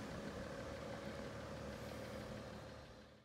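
Steady engine hum from inside a moving car, a constant low drone with road noise that holds even and fades slightly at the end, with no voices.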